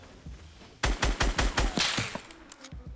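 Automatic gunfire in the Fortnite: Battle Royale video game: a rapid, loud burst of about eight evenly spaced shots, followed by a few scattered fainter pops.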